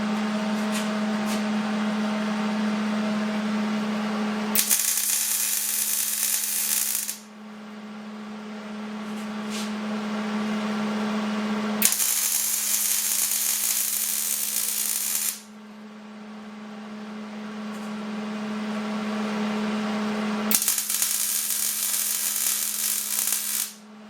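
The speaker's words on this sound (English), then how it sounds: "Now weld that up." Welding on the bedside of a 1946 Ford truck comes in three sustained bursts of harsh, crackling hiss, each a few seconds long. A quieter steady hum fills the gaps between them.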